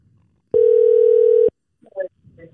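A single steady phone tone on an outgoing call to a parent, one unbroken beep of about a second, loud and clear, followed by faint shuffling and a brief murmur.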